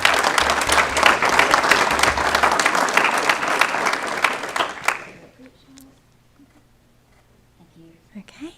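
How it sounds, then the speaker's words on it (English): An audience at a county school board meeting applauds National Board recipients, with dense sustained clapping for about five seconds before it quickly dies away into a quiet room with faint murmurs. "Please give all of our National Board recipients a round of applause."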